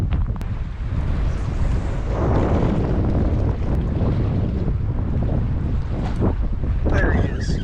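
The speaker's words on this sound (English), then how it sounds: "that wind is blowing right into our face" Strong wind buffets the microphone on an open boat during a New England saltwater fishing trip, a loud, steady roar with gusting swells and water noise running the whole time.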